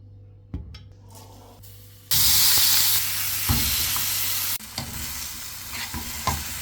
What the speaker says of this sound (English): Today I'm cooking noodles using only tomatoes and spices.